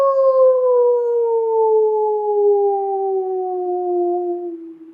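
A human voice imitates a wolf howl as a vocal exercise: one long, steady, loud tone that slowly glides downward over about five seconds, alone with no other sounds.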